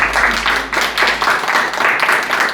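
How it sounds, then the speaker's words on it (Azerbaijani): Children applaud in a classroom after a science experiment, a steady burst of many hands clapping together, fairly loud and continuous throughout. "Beləliklə, alqışlar uşaqlar."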